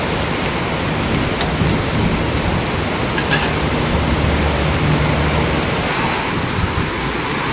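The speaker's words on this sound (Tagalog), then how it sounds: "may kasamang hangin po itong ulan saka malakas" Heavy rain driven by wind falls steadily and loudly as a dense, continuous roar with no breaks, close by and with no voices over it.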